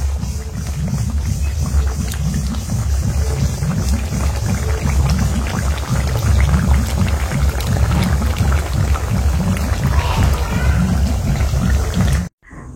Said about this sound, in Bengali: তারপরে হচ্ছে আমি একটু জল দিয়ে দিয়েছি সিদ্ধ করার জন্য, কারণ আলুটাও সিদ্ধ হবে